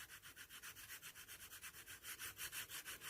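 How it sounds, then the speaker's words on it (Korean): The smooth back of sandpaper rubs over a gouged engineered wood floor repaired with hot glue, a steady rhythmic back-and-forth scrubbing of about five strokes per second, close and quiet with no talk. "천사포의 뒷면을 이용해서 그러니까 날이 없는 면을 이용해서 살짝 연마를 해주세요."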